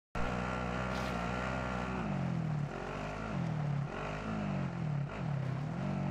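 A motorcycle engine in the Warzone video game drones loud and close, its pitch dipping and climbing over and over as the rider shifts and revs, with no talk over it.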